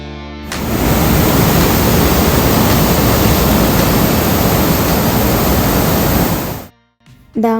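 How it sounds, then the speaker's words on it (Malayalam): Water pours forcefully over Malankara Dam in a loud, steady roar of rushing spillway flow lasting several seconds, then cuts off abruptly near the end. "ഡാമിൽ ശക്തിയായിട്ട് വെള്ളം വീഴുന്നത് നോക്കി നിൽക്കാൻ നല്ല രസമുണ്ടായിരുന്നു"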